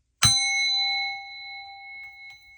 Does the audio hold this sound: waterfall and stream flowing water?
no